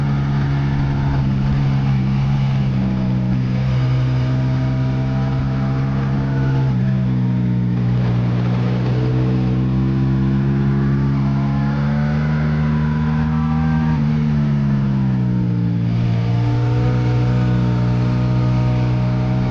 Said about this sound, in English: The presence this bike brings with that exhaust is second to none.